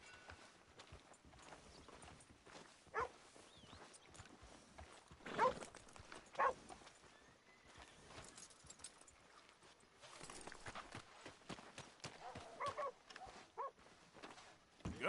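Horse hooves clip-clopping at a walk in Red Dead Redemption 2, a steady rhythm of soft, fairly distant hoof falls over a quiet ambient bed with a few louder knocks, no talk.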